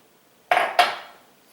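A spatula scrapes and knocks against a container while a frozen yogurt smoothie is being made, two quick, close clattering scrapes in an otherwise quiet room.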